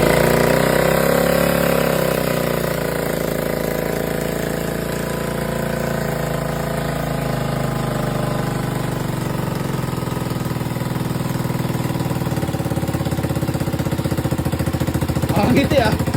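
Just after a kick start, a motorcycle engine idles with a ticking valve clatter, a steady rapid mechanical chatter close by, with voices talking over it and a brief louder burst near the end.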